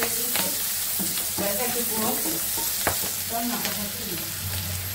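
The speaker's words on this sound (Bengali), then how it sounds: "এই যে কই মাছ দিয়ে লাউ দিয়ে রান্না করতেছি, কাঁচামরিচ আর পেঁয়াজ দিয়ে দিছি" Koi fish and bottle gourd fry in a pan with green chili and onion, giving a continuous, close sizzle under repeated stirring scrapes, with no one talking.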